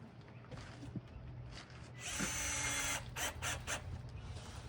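A power drill drives screws to fasten a sign onto a post in the Signpost Forest, with a steady whirring burst of a second or so standing out over outdoor background noise.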